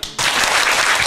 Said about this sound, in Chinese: 你赶紧不要拍手